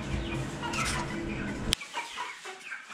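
Broiler chickens cluck and squawk together over a dense, busy barn din, with one sharp bird call standing out near the middle before the noise thins.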